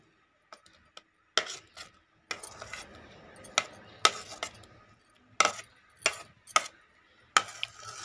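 Chopped unpeeled apple pieces and banana are stirred together in a bowl, giving a series of close, sharp clinks and scrapes of a spoon against the dish with short pauses between strokes.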